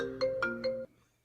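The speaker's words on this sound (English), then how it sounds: "now Ray's getting a call from his mom" A phone ringtone plays a short melodic phrase of three bright rising notes, clear and fairly quiet, then cuts off abruptly into near silence.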